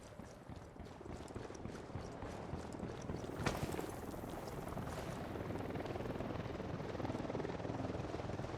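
Helicopter from the video game Ghost Recon Wildlands, a steady rotor thump and engine drone holding throughout at moderate distance, with one brief sharp transient partway through.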